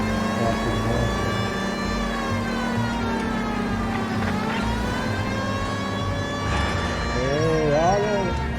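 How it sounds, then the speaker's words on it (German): A police car siren wails steadily in L.A. Noire, rising and falling at moderate loudness over engine rumble, with brief chatter mixed in. "Ich hab die Sirene an, Alter."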